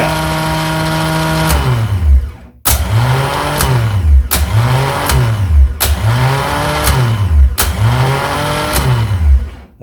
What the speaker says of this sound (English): hopefully we'll have a nice spinning starter motor